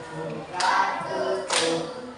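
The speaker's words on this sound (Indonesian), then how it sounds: "bertepuk tangan" Hands clapping in a fourth-grade classroom, two loud bursts of group applause about a second apart, close and sharp.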